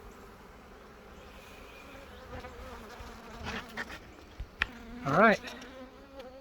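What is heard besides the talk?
honeybees leaving a caught swarm trap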